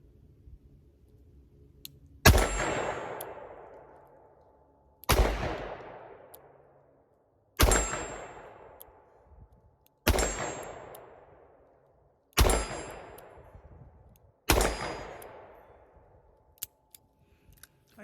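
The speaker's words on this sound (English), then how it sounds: "let's take some shots with the Model 64 Smith & Wesson" Six loud gunshots from a Smith & Wesson Model 64 revolver firing steel-case ammunition at a range, spaced roughly two and a half seconds apart, each a sharp crack with a long echoing decay.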